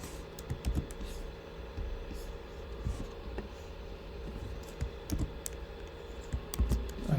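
Computer keyboard keys being typed while writing JavaScript code, a steady run of light, close clicks and taps over a low room hum.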